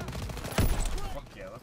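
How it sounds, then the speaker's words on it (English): Gunfire in a World War II firefight in Call of Duty WWII: a single sharp, close shot over a background of distant rattling fire, with a voice talking over it. "Everyone, open fire!"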